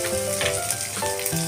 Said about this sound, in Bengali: লাল হয়ে এলে নারকেলের কুচিগুলি দিয়ে লাল লাল করে ভাজতে হবে।